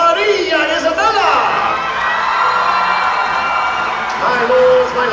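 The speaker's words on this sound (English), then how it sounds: "raise a mighty cheer for our host" Crowd noise from an audience at a Medieval Times educational matinee show, a sustained roar of cheering and shouting, with children's high voices and whoops, lasting throughout at steady loudness.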